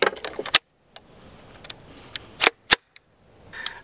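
A steel 8-round magazine is pulled out of and pushed back into a Henry U.S. Survival AR-7 rifle, giving a few sharp, close metallic clacks and clicks with quiet handling noise between them.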